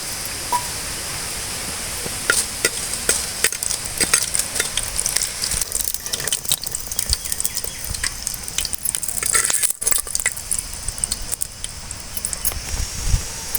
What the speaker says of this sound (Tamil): கொஞ்சமாக எண்ணெய் ஊற்றி மிளகாவத்தல் போட்டு வறுத்துக்குவோம்